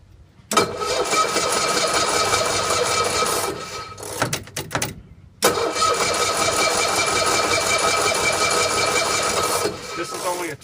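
A 1965 Cushman Truckster's two-cylinder engine, started after sitting over a year, catches and runs loud and close with a rapid clattering beat, cuts out briefly with sputters, then fires again and keeps running steadily.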